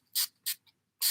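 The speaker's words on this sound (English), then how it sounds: "I'm just wetting my beauty blender with the NYX setting spray." NYX setting spray misted onto a beauty blender makeup sponge in three short, loud, hissing spray bursts with brief pauses between them, close and alone.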